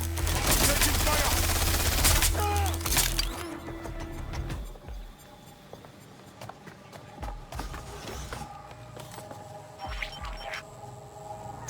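Gunfire in the video game Watch Dogs Legion, with a dense loud burst of shots in the opening seconds that gives way to quieter scattered shots and electronic game sounds.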